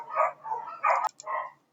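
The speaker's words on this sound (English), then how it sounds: "Sorry about the dogs." Dogs barking at a distance, a quick run of four muffled barks and yips about a second and a half long, with no voices over it.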